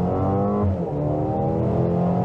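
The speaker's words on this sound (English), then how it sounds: "Now you could hear the engine, I'm pretty sure you did, and the transmission shifts so quick and so well with this 8-speed" A 2022 Mercedes-Benz GLA 35 AMG SUV accelerates hard with a loud, rising engine note. An 8-speed automatic makes a quick upshift partway through, and the engine keeps pulling strongly with no talk over it.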